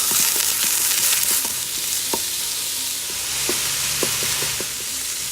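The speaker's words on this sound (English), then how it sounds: "let's go ahead and brown up that Italian sausage" Italian sausage browning in a preheated Ninja Foodi pot on medium-high, a steady loud sizzle close by with scattered scraping and stirring clicks from a utensil breaking up the meat.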